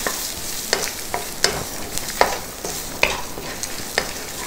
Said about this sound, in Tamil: இதெல்லாமே சேர்த்து கொஞ்சம் நல்லா வறுக்கணும், அந்த கடலைப்பருப்பு நிறம் மாறணும்